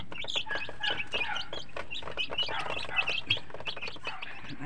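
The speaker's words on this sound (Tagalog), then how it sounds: "Kain pa daw sila." A dozen young chicks peep and chirp steadily while feeding, with soft clucking mixed in; the high, busy calls overlap continuously at close range with no talking.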